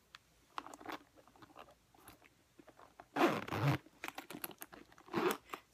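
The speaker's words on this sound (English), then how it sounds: "So I can zip it up, but as you can see, it makes the zipper, the top of the bag, kind of crooked." A Louis Vuitton Alma BB leather handbag being zipped shut, two quick close rasping zipper pulls in a quiet room, each a short bright scratchy burst separated by softer handling clicks.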